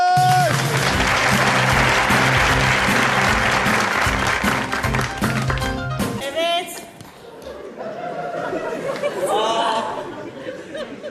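Studio audience applause for two guests on a Turkish talk show, loud dense clapping with music for about six seconds, then fading into chatter and light laughter.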